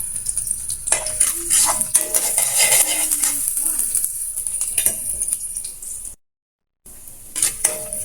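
Onion and garlic sauté in a pan for a Filipino vegetable dish, with a utensil scraping and clinking against the pan over a soft sizzle, close by, briefly cut out near the end.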